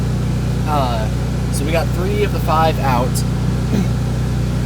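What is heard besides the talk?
generator running in the background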